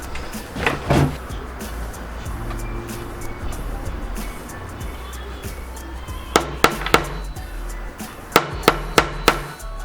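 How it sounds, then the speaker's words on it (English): Wooden dowels being hammered into a DIY kitchen riser: a short cluster of knocks near the start, then two quick runs of sharp, evenly spaced taps toward the end, close and fairly loud over quiet room noise, with no talking. "Gently hammer the dowels into place."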